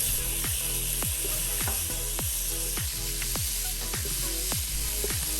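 Shrimp sizzle in a pan with chopped spinach and broccoli florets, a steady frying hiss running throughout while a regular rhythmic clack of stirring or scraping repeats about once per second, close and without talk.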